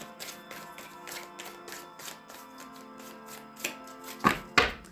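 Tarot cards shuffled by hand in a reading setup, a run of quick soft riffling taps and flicks that end in two sharper, louder snaps of the deck, with no talking.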